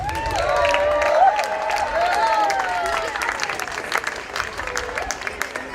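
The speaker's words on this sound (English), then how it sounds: "Can we give a big round of applause for Shimshai?" A festival crowd at Chichen Itza claps and cheers, with whoops and voices rising over steady applause that thins into scattered claps.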